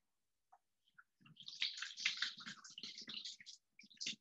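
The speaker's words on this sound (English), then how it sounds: "I'm gonna rinse my hands" Water splashes and runs steadily in a kitchen sink while hands are rinsed, a close, broadband rushing with a few drips before it and brief gaps near the end.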